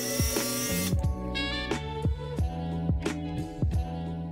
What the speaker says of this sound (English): And again, the 12V impact driver worked really well for this task.